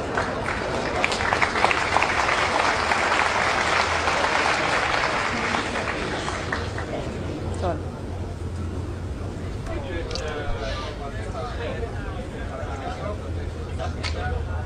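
A snooker crowd at a Higgins versus Trump final applauds in a sustained wash of clapping that fades into murmuring, with voices talking over it.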